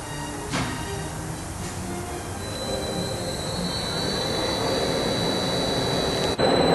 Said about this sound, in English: Turn on spindle.